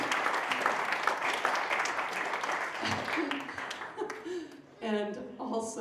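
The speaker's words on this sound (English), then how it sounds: "can you please give such a soulful, warm, genuine round of applause to Mr. Larry Ogletree on the drums." Audience applauding a jazz drummer at a live tribute concert, a dense wash of clapping for several seconds that thins out near the end as voices and a bit of laughter come through.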